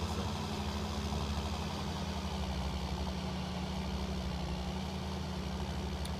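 A truck engine in Farming Simulator 19 drones steadily at high revs, a continuous, fairly quiet hum with strong low tones and no talk over it.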